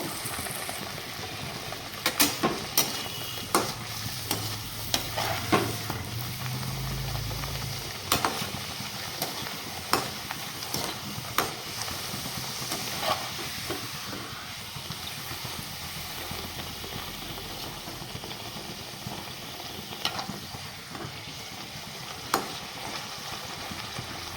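Kochuri puris made with green peas frying in a pan of hot oil, a steady sizzle running throughout with occasional stirring clicks and clinks over it.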